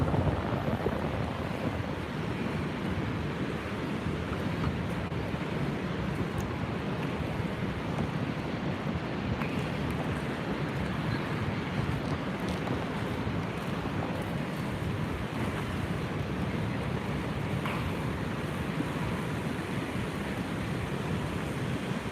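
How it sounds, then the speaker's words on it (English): The Horseshoe Falls at Niagara, Ontario, give a steady, dense roar of falling water, mixed with wind buffeting the microphone, constant and unbroken throughout. "That's the Horseshoe Falls."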